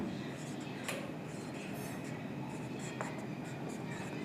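Faint marker or chalk scratching on a board during an accounting class, soft irregular strokes with small taps, set against a steady room hum.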